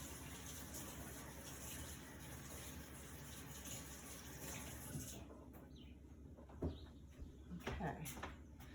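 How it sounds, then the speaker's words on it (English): A kitchen knife rinsed under a running tap while making sushi, a steady gush of water that stops midway, followed by a few clinks and handling noises. "I gotta rinse this knife off because it's got stuff on it"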